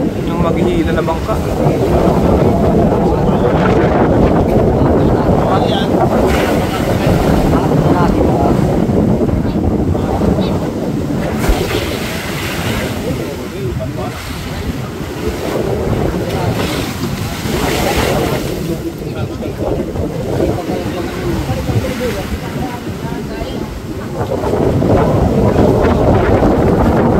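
A wooden outrigger boat pounded by large waves in typhoon winds, with a continuous loud roar of wind and surf, crashing water surges, and heavy wind buffeting the microphone, and voices talking underneath.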